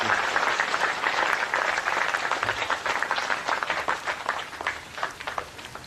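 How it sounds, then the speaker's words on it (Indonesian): Steady applause from an audience at an Indonesian religious gathering rolls on for about six seconds, dense and fairly loud with dozens of hands clapping at once and no voices rising above it. "Tepuk tangan semua teman-teman sekalian untuk cinta kita bersama"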